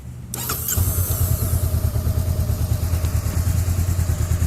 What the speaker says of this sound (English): This is the stock exhaust, but it's nice and quiet.